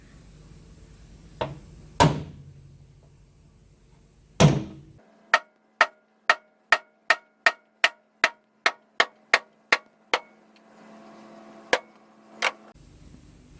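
A punch is hammered into a spot weld on a 1998 240SX chassis: a few heavy isolated blows, then a rapid even run of about fifteen sharp metallic taps, then two more strikes, with no talk.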